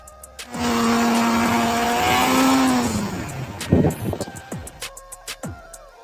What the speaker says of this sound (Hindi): एक दो ट्राई में ही बड़ी आसानी से ऊपर चढ़ जाती है गाड़ी।